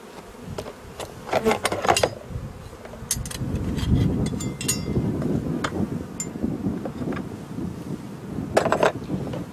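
Honeybees buzz around a hive during an inspection of small nucleus colonies, a low continuous hum with wind noise across the microphone and several sharp clicks and knocks from handling the hive.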